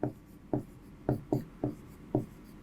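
Chalk or marker strokes on a board during a Class 10 maths lesson on surface area and volume, six short scratchy strokes at irregular half-second intervals, close and fairly quiet, with no talk.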